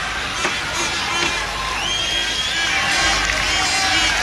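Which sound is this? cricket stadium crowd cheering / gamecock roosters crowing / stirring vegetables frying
cricket stadium crowd cheering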